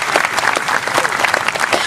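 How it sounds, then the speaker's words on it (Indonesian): Dense audience applause at a Kenduri Cinta gathering in July 2012, steady and loud throughout, with scattered individual claps standing out near the front of the crowd. "tepuk tangan semuanya"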